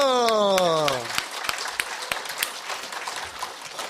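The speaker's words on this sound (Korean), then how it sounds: "박수!" Applause from a church congregation at a dawn revival service breaks out after a sustained voice and musical tones fade, settling into scattered, moderately loud clapping with a few sharper individual claps.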